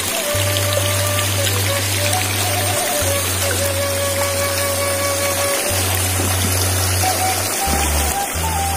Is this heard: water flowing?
yes